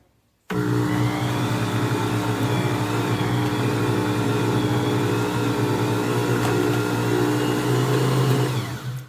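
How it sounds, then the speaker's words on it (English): A stand mixer kneads whole wheat bread dough made with freshly ground flour. Its motor starts abruptly, then drones loudly and steadily, a constant whirring hum that eases off only at the very end. "just let the mixer mix it in"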